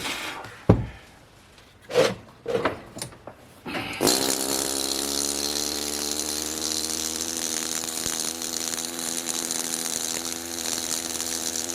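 A power sander works over a multi-ammonite fossil specimen, starting after a few knocks and handling thumps and then running as a loud, steady motor whine with a grinding buzz, close and continuous to the end.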